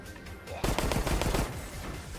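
Gunfire in the video game Resident Evil Resistance: after a quiet moment, a rapid burst of loud shots rattles out, then fades into the game's background noise.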